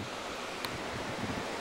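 Rapids on the Rogue River rush in a steady, broadband roar of churning water, loud and continuous, with a brief knock partway through and no voices.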